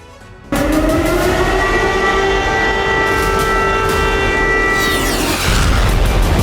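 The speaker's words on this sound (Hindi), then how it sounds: "यूक्रेन की राजधानी कीव में अचानक गूंजने लगा सायरन" A loud civil defense air raid siren in Kyiv, Ukraine, during the Russia-Ukraine war, starts abruptly and wails continuously, its tone holding steady with a low rumble beneath.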